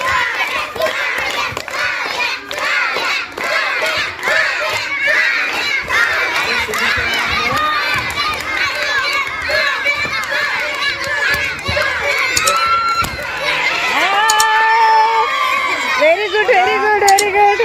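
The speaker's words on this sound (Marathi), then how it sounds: "ए टाळ्या वाजवा त्यांना प्रोत्साहित करा" A group of children at a balloon-bursting game claps, shouts and cheers loudly and continuously, with excited voices and chatter mixed through the noisy crowd.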